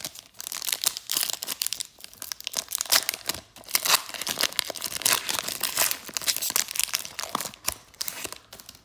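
Panini 2017-18 Hoops basketball card pack being torn open, a steady run of close, loud foil crinkling and ripping that lasts several seconds with no talking.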